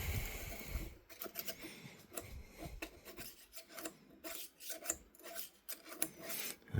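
A welding rod scrapes and prods inside a seized J.Parkinson & Son 6-inch milling vise. Close, rough rasping strokes repeat in uneven bursts with short pauses between them, and no voices.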